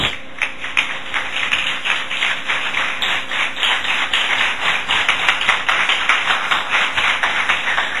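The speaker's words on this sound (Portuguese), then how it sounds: "desocupar as suas mãos e aplaudir a palavra de Deus" A church congregation claps steadily in unison for several seconds during a sermon, a dense run of close, even hand claps with no talking over it.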